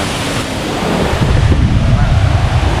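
Rushing water pours down a tiered waterfall in the rainy season, a steady broad roar that swells slightly louder partway through, with no talk over it.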